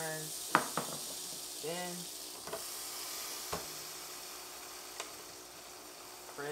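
Cinnamon rolls sizzle quietly on a hot nonstick-sprayed waffle iron, a soft hiss broken by a few light clicks and taps, while a person talks briefly over it.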